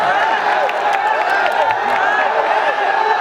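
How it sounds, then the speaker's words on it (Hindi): Crowd at a Bhojpuri stage show clapping and cheering on the host's request, dense continuous applause with scattered whoops, fairly close and loud. "भाई, जोरदार ताली चाहिए सभी के हाथ से"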